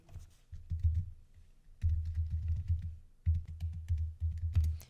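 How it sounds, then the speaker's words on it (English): A computer keyboard is typed on at close range, with a git version command entered in the terminal. Bursts of soft rapid key clicks are broken by short pauses. "Then type git -- version. I will also do it with you."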